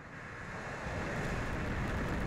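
United Launch Alliance rocket lifting off with NOAA's GOES-T weather satellite, a broad, steady roar that swells slightly and holds at constant loudness throughout, with no talk heard.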